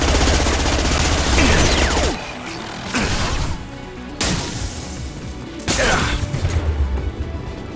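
Gunfire in the game Mass Effect 2: loud, close bursts of automatic weapon fire in several sharp blocks separated by brief pauses, with impacts and mechanical clatter.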